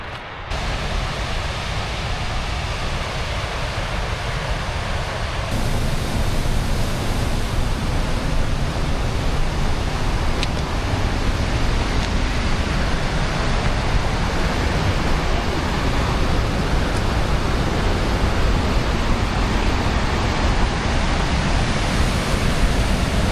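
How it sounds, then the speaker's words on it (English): Water pouring over a dam at a lake, a broad steady roar like a 50-foot waterfall heard from a boat approaching, continuous and unbroken, swelling slightly louder after the first few seconds. "We can see the dam just ahead. It looks like a 50-foot waterfall from here."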